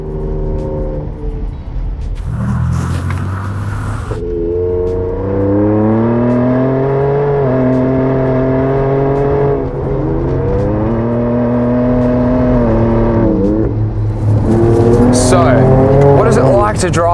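A powerful 2023 Ford Raptor pickup truck engine revs up repeatedly, rising in pitch through gear changes, loud and close throughout.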